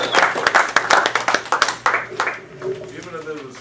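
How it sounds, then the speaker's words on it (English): Applause from an audience after an evening presentation, a burst of many hands clapping at moderate distance that thins out and fades toward the end. "I think we do owe Andy another round of applause for a very good, excellent presentation tonight."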